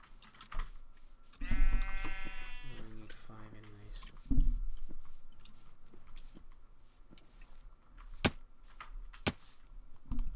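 A sheep in the Minecraft video game gives a short bleat and then a second bleat, set among keyboard clicks and mouse taps, while people talk.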